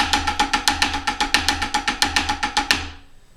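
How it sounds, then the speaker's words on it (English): Snare drum plays a fivelet exercise with accents on the first and second notes of each group, a fast even roll of crisp strokes with regular louder hits, close and alone, then a short ringing decay. "The second variation of this exercise is you accent the first and second notes of every fivelet, so it sounds like this."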